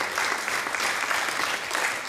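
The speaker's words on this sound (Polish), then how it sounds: "To może brawa bardzo dla wszystkich Państwa, którzy wspierali tego" An audience at a Jarosław film-trail event applauds the supporters of an author, with steady, dense clapping from many hands that holds at an even level throughout.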